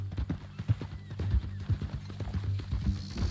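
Horse hooves clip-clop in the Red Dead Redemption 2 video game, a steady, close rhythm of hollow knocking steps at a walking pace over a low background hum.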